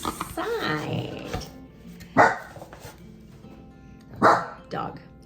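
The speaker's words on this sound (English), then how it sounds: "That was my dog exerting his dominance." A pet dog named Hugo barks in short, sharp bursts at home, a few loud yaps spaced seconds apart, with a person talking over and between them.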